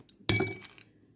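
Ice cubes dropped into a glass for iced dalgona coffee make one sharp, close clink followed by a brief settling rattle, with no talk.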